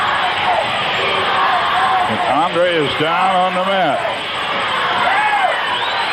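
A wrestling arena crowd at a Portland Wrestling match featuring Andre the Giant roars and cheers steadily, with a commentator talking loudly over the noise throughout.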